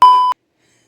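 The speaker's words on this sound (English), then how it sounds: "There's an alarm ringing" A single short electronic beep, clear and loud, lasting about a third of a second before silence.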